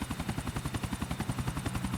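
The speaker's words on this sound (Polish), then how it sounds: "Jest helikopter, wystartował." Helicopter in GTA 4 lifting off, with a steady, rapid rotor chop pulsing evenly throughout at moderate loudness and no talk over it.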